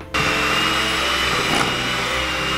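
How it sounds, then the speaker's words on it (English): An electric mixer runs in a bowl of gingerbread icing, starting abruptly and holding a steady loud whirring motor hum with a slight change in pitch midway. "let's try using the mixer and see if that helps a bit."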